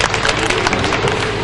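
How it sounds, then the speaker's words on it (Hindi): An audience claps for a doctor at a kavi sammelan (poetry gathering) in Sampla. The dense, steady applause fills the whole short stretch at close range, with a murmur of crowd noise underneath. "डॉक्टर साहब के लिए एक बार तालियां बजाएं।"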